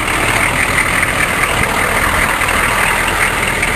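Chevrolet K5 Blazer truck engine running at a steady, loud idle close by, a continuous low rumble with no talking.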